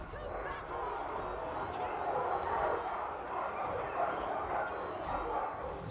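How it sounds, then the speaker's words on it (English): War dogs barking and yipping in the battle video game Total War: Arena, a busy overlapping clamor of dog sounds mixed with combat noise, with someone talking over it. "We don't have many dogs left, so let's send them in."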